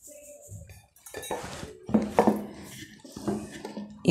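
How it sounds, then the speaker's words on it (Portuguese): A wire whisk stirs thick carrot cake batter against the bottom of a bowl, scraping and clinking in a steady, close, fairly loud rhythm with no talk over it. "encosta o fouet no pote, encosta o fouet lá no fundo, ó, e mexe"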